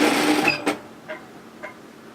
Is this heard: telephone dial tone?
no